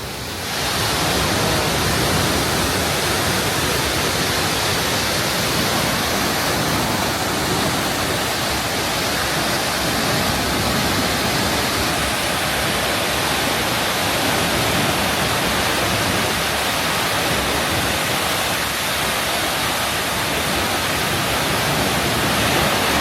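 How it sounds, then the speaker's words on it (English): A famous Swiss waterfall roars in a loud, steady broadband rush that stays constant throughout, close by and with no voices over it. "This is how the famous Switzerland waterfall looks like."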